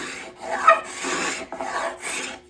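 Close, dry rasping strokes of a blade shaving thin curls off coarse-grained rived ash while shaping an axe handle, several short passes with brief pauses between them.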